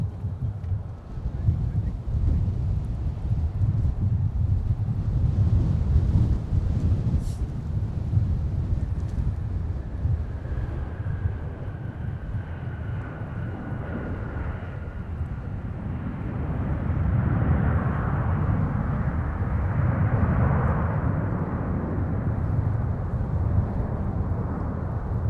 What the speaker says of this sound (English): So let's watch the 737 here and see how they do with the wind.